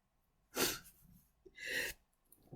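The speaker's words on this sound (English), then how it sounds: "Oh, sneezing." Two quick sneezes a second apart, close and fairly soft, separated by silence.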